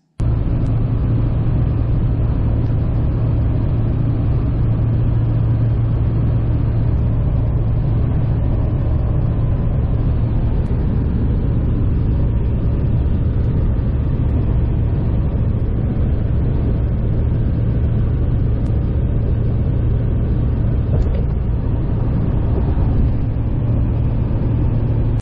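Steady, low engine drone and road rumble inside a 2005 GMC Sierra 2500HD with a Duramax diesel and six-speed conversion cruising on the highway, continuous and even for the whole stretch with no talking.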